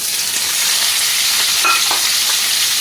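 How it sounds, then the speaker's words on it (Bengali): Chopped onions hit hot oil already seasoned with bay leaves and whole cumin, giving a loud, close, continuous hiss of sizzling with a few faint clinks, no voices. "আমি দিয়ে দেবো কুচনো পেঁয়াজ"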